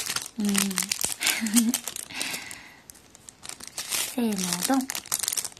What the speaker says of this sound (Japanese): では今回ラストアミーボカード開けます